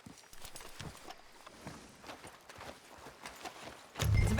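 Horse hooves clip-clop in a quick, irregular rhythm in the Red Dead Redemption 2 video game, fairly close and moderately loud, ending in a sudden low thump.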